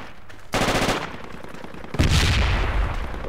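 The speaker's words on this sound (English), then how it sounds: "there's an MG right above us" Machine gun fire in the video game Project Reality, set in an Afghan insurgency map, with two loud sustained bursts of rapid automatic fire, the second heavier and closer, no talk.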